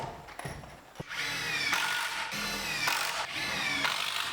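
A power drill whirs in several bursts while driving 3.5 inch screws into the bottom of framing against an OSB wall of a utility closet in a 20x30 shop, with motor pitch rising and falling, close and fairly loud.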